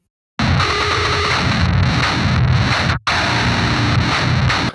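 A heavily distorted electric guitar plays through a live cabinet simulation, loud and dense, with a brief cut around the middle before the crunchy chords resume.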